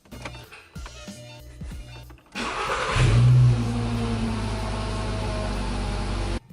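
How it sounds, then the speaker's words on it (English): A Volkswagen MK5 engine cranks briefly and catches, revving up loudly before settling into a steady idle, after a few clicks and clunks from inside the car following an airbag clockspring replacement. "I'm going to try and start the car"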